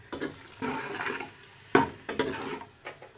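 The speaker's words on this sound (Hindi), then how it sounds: "इसमें टमाटर जाएंगे, इसमें थोड़ा सा पानी ऐड करेंगे," Water poured into frying masala with tomatoes for daal mash hisses and sizzles in the pan, with a few bursts of clinking utensil stirring, close and fairly loud.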